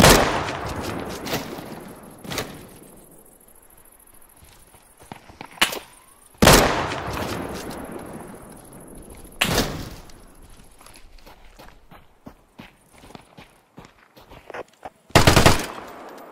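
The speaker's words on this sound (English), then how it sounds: "Shooting at me up here." Gunfire in an open-world survival video game: loud bursts of shots at about 0, 6.5, 9.5 and 15.5 seconds, separated by scattered quieter pops and distant single shots, with no talking.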